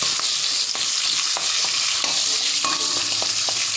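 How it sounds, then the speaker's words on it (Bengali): Lentils dry-roasting without oil in a kadai, a steady close sizzle and crackle with scraping stir strokes running throughout, no voices. "ডাল দিয়ে হালকা করে ভেজে নিয়েছি"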